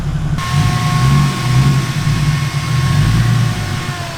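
Boosted BMW E36 driving, heard from inside the car as a loud, steady low engine drone and road rumble that swells and eases slightly over a few seconds, with no talking.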